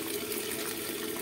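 Strong water gushes steadily from a faucet, a dense, even rushing hiss that continues without break or speech.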